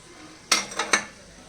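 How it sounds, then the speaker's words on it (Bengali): Mushrooms are tossed with coriander leaves and garam masala in a pan, giving three sharp clinks and scrapes of a utensil against metal in quick succession, fairly close, with no talking. "ভালো করে মিক্স করে"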